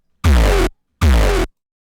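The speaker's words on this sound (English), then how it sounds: "I opened up a distortion and I just went for a crunchy grunge" Two loud, booming kick drum hits with crunchy grunge distortion and boosted lows, each about half a second long, separated by a brief silence.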